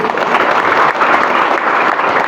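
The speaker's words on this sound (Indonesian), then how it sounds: "Didi, tepuk tangan." Audience applause at a BNP integrity oath ceremony held at Pesantren Saronge, a loud, dense and steady wash of many hands clapping together without any pause.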